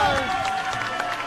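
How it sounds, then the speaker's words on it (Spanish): An audience applauds and cheers for a group of break dancers on a Mexican television comedy show, a dense burst of clapping and crowd noise heard close and fairly loud. "Un aplauso para los muchachos."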